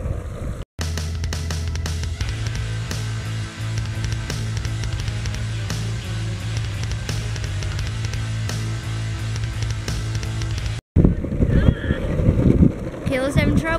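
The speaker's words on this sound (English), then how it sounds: "It's so windy." Strong wind buffets an outdoor microphone on a hill, a loud continuous rumbling roar that runs nearly throughout with brief dropouts and turns gustier near the end.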